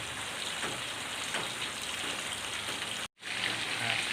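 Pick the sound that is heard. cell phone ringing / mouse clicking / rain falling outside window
rain falling outside window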